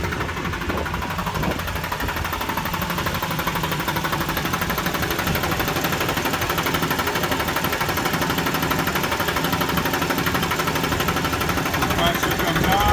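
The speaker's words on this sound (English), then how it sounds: "The compressor comes on and I'll go to 150 pounds and then I'll shut down." An air compressor runs steadily, building pressure toward 150 pounds, a constant dense mechanical drone with rapid pulsing that continues unchanged for the whole stretch.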